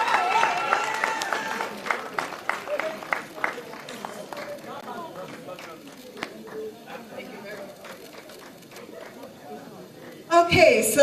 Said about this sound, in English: Una clap, una clap, una clap.